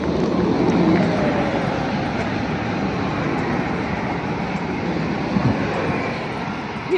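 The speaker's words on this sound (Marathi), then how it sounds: "ही आता जी गाडी गेली ती साल्झबर्गला गेलेली आहे आणि ती रिजनल बाण आहे" A regional train bound for Salzburg passes in Germany, a steady mid-distance rumble and rushing roar that swells slightly early and then holds, with no talking.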